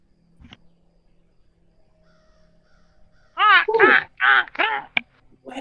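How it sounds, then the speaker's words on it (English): Crow cawing ambience playing during a Curse of Strahd Dungeons & Dragons tabletop session: after a near-silent stretch with a faint hum, a burst of four or five harsh, loud caws sounds close together. "That's all I hear are the crows."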